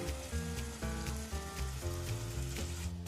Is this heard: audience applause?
no